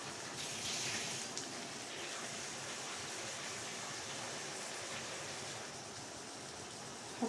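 Water meets sausages in a hot pan beside frying potatoes, a continuous broad hiss and bubbling sizzle that holds steady at low volume throughout, with no voices.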